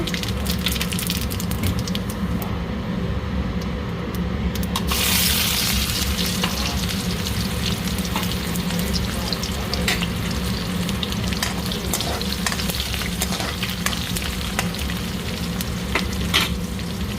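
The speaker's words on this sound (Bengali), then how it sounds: "পেঁয়াজটা হালকা ভাজা হবে।" Onions sizzle and crackle in hot oil with bay leaf and cumin, a loud, continuous frying hiss with occasional stirring scrapes and pops.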